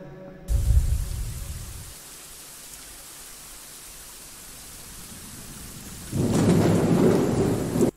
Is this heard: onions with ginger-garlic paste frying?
no